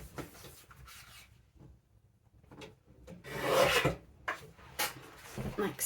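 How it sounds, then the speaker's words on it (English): Blade or tool rasping through the excess edge of an upcycled hardcover book cover, close and quiet, in short scraping bursts that grow louder toward the middle and end. "I'm just marking it at the inch mark, and I'll just trim off that excess."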